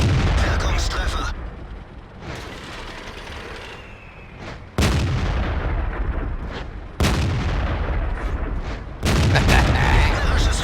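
Tank cannon fire and gunfire in a video game: several heavy booming cannon shots land at intervals over a steady rattle of gunfire and rumbling battle noise, loud and close.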